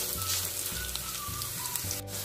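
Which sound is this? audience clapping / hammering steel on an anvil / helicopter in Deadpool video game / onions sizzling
onions sizzling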